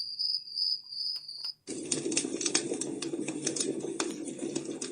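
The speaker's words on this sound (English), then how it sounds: "Crickets for sure." A steady electronic tone cuts off, then a Vindsbay travel sleep sound machine plays a dense chorus of crickets chirping with rapid clicking pulses, continuous and fairly loud, no talking.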